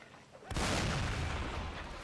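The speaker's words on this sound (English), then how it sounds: "Listen to that cannon sound." A cannon booms in a Mount & Blade North & South line battle, a sudden loud blast that rolls into a long, dense rumbling tail.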